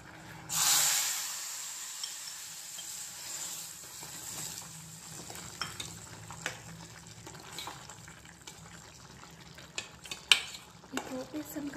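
Dal is tipped into a sizzling tempering of curry leaves and asafoetida in a pan for coconut chana dal, opening with a loud hiss, then scraping spoon-on-pan stirring and scattered clinks over a low, steady sizzle.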